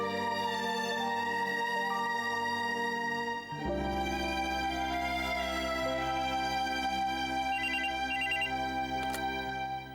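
A telephone rings steadily in a repeating electronic pattern just before a call home, sounding clear and close under a musical score that swells partway through.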